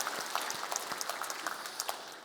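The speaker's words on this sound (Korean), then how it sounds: "우리 함께 좀 더 격려하고 또 응원하면서 박수를 한번 보내주시면 감사합니다" A short burst of church congregation applause for choir members, crisp individual claps overlapping in a brisk, even patter at moderate distance.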